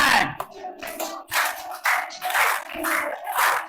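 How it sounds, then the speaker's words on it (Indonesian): A group in a classroom claps hands together in repeated bursts, fairly loud and close, with children's voices mixed in among the claps. "Tepuk tangan."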